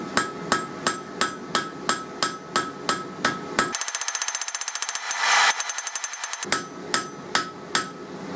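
A cross peen hammer rings on hot metal on an anvil in a steady rhythm, forging a shepherd's crook, with a brief burst of rapid, lighter strikes in the middle before the heavier regular blows resume.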